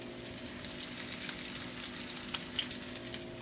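Sheepshead fish frying in a skillet, a soft steady sizzle with faint crackles and pops heard from a little distance.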